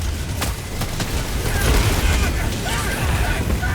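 Robot enemies open fire in the Helldivers 2 video game, a dense, continuous barrage of gunshots and booming blasts with mechanical clatter, loud and sustained throughout.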